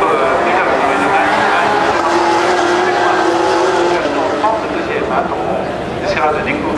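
A Porsche Carrera Cup race car's engine roars past during qualifying at the Le Mans circuit, a loud, steady drone that fades slightly toward the end, with a commentator talking throughout.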